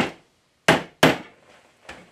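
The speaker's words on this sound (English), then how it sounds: "We take our Torx bit and I'm gonna pop it in the hole, and I have my hammer set." Sharp hammer blows drive a Torx bit into a corroded, heated bolt during metal extraction: a few separated metallic strikes with short ringing decays and quiet gaps between them, close and clear with no talk.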